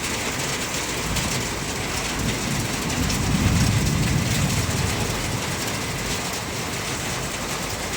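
Heavy rain pours steadily at an outdoor work site, a dense continuous hiss with a deeper rumble swelling midway, loud and close with no talking.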